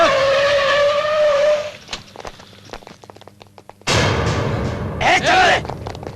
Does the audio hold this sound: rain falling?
no